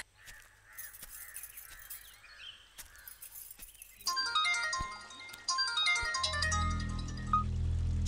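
A phone ringtone plays a bright, repeating electronic melody, preceded by scattered bird-like calls and clicks, with a low rumble building toward the end.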